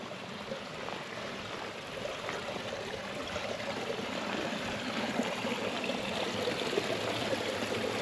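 A small burn, a Scottish stream, burbles and trickles steadily close by at a wild camp, a constant watery rush growing slightly louder toward the end, with no voices.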